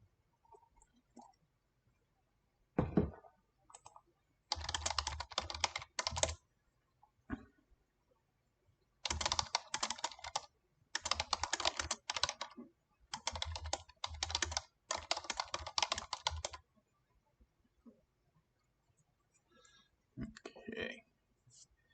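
Bursts of rapid typing on a computer keyboard, several clattering runs separated by pauses, with a few isolated clicks and a brief voice near the end.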